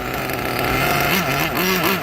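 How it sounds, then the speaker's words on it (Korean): A nitro-engine RC buggy, a Kyosho FW06, runs close by with a loud, buzzing high-pitched engine note that holds steady and then wavers through quick rev swells. "시동 꺼지면 안 되는데 시동 안 꺼졌어요"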